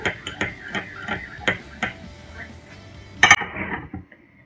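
A spoon mixing ingredients in a small bowl for a homemade acne remedy: rhythmic light clinks and taps of metal on the bowl, about one every third of a second, close and fairly quiet, ending in one sharper knock.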